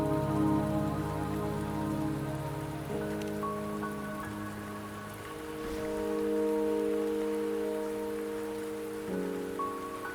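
Steady rain falls in the video game Wuthering Waves, a constant wash of drops beneath sustained tonal background music, with no voices.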